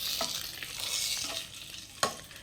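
A curry-leaf tempering poured into sambar gives off a close, continuous hiss and sizzle with faint stirring scrapes and a sharp clink near the end.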